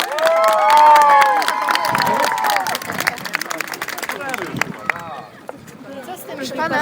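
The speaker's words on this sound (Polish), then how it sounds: "Wielkie brawa dla tych 13 ekip!" A large crowd claps and cheers loudly, with whistles and shouts rising from a lively outdoor gathering at a bottle-boat event as an amplified voice carries over the top.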